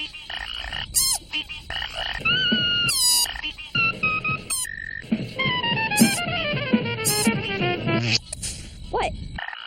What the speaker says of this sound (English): A frog does the same thing when it blows air out of its mouth and over its vocal cords